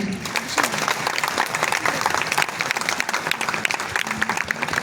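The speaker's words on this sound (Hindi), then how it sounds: "एक बहुत बड़ी ताली" A crowd at a national accounting conference in Gorakhpur gives a big round of applause, continuous close clapping with sharp individual claps standing out throughout.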